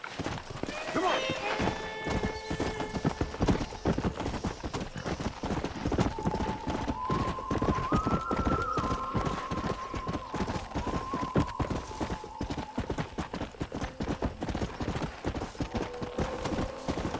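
Horse hooves clip-clop steadily through a Red Dead Redemption game scene, a continuous rhythmic patter close by, with a brief whinny early on and people talking over much of it.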